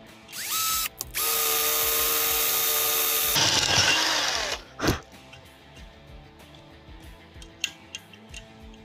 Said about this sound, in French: on va percer un trou pour installer notre régulateur de tension